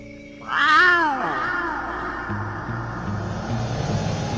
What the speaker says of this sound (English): when Ocelot meows his menacing meow